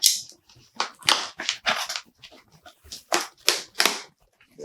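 A cardboard mystery package of comic books being sliced open with a blade, a series of close, loud, scratchy cutting bursts in irregular rhythm with short pauses between strokes.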